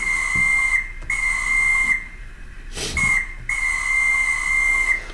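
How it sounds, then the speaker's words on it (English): A steady air whistle on a model train caboose sound car sounds in long sustained blasts, broken by short gaps, with a brief hiss of air between them; fairly close and clear. "there's the whistle, the air whistle"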